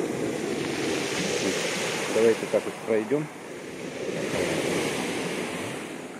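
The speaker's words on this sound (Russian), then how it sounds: "Ну что, сегодня смотрите, какие волны у нас." Stormy sea on a windy October morning, with waves breaking continuously on the shore in a steady, loud wash and wind buffeting the microphone, while someone speaks briefly over it partway through.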